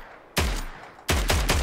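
Slug gun pump-action combat rifle firing in the game Fallout 4: one loud, booming shot followed after a pause by a quick burst of three more blasts, no voices.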